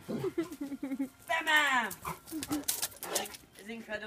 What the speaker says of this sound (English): This incredible dog.